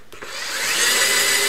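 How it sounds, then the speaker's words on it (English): A power drill whirs steadily, drilling out stepper motor screw mounts, starting with a couple of short bursts and then running continuously at close range. "I'm drilling out the stepper motor screw mounts."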